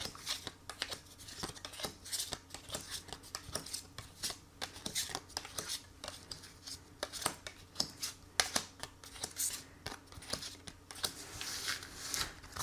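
Tarot cards shuffled by hand before a reading, giving a dense, steady run of soft riffling clicks and flicks that carries on for about twelve seconds, close up and fairly quiet.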